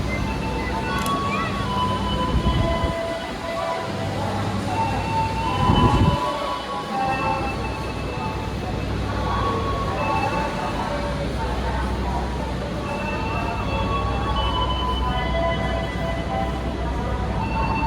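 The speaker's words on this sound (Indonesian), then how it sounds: "jalur 2 dari arah timur akan segera masuk KRL" A KRL commuter train pulls into an Indonesian station platform, a continuous loud rumble and rail roar running throughout, with a couple of brief louder thumps early on and a station announcement and people talking over the noise.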